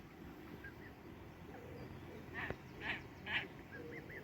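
Geese calling near an anglers' bankside camp during a carp fishing session, a few short honking calls rising briefly over steady outdoor background hum, clustered toward the end.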